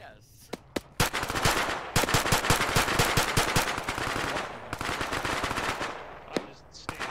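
Gunfire in the military game ArmA during a ShackTac squad mission: dense, loud automatic bursts and single shots hammer nearby for several seconds, with occasional voices over the shooting.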